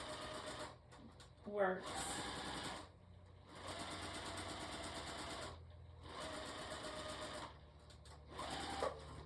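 Sewing machine stitching fabric in several bursts of rapid mechanical whirring and clatter separated by short pauses, close and fairly quiet, with a person speaking briefly.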